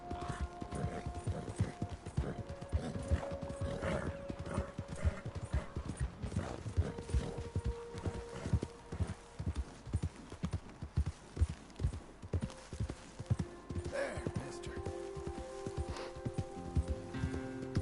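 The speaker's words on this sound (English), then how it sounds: "This is a really nice horse." Horse hooves clip-clop steadily in Red Dead Redemption 2, a close, even walking gait with faint ambient tones and occasional mechanical creaks around it.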